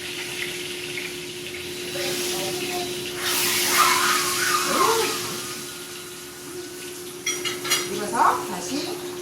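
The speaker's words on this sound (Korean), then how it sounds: "10분 정도 더 튀기겠습니다." Steady sizzling hiss of food frying in oil, with a few clinks of utensils or a pot near the end.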